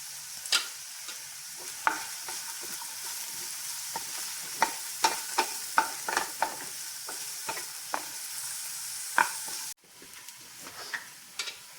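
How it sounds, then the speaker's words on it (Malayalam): Ginger and garlic frying with onion in a pan, a steady bright sizzle with repeated sharp scrapes and clicks of a spoon stirring, fairly close and without talk. "സവാളയിലേക്ക് നമുക്ക് ഇഞ്ചി വെളുത്തുള്ളി ഇടാം."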